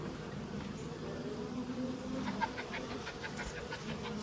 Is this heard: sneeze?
no